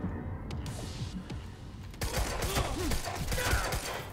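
Gunfire in the video game Quantum Break, with a burst of rapid shots that grows louder and denser in the second half over mechanical game noise.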